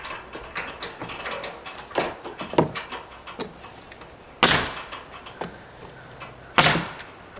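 A garden hose knocks against a ladder while siding is installed on a house, giving a couple of sharp hollow clanks amid faint ticking and rattling outdoors.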